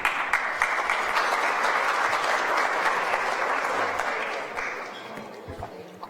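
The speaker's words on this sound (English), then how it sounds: "A very nice round of applause" Audience applause fills the room at an awards ceremony, a dense sustained wash of clapping that holds steady for several seconds before thinning toward the end.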